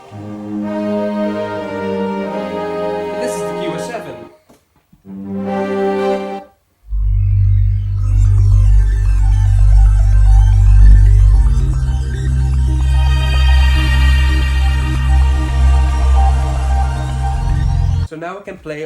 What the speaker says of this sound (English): this is the sound of the core M3R